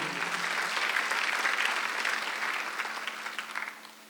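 Applause from a church congregation during a Sunday worship service, a dense steady patter of many hands that holds strong for several seconds and then slowly thins out toward the end.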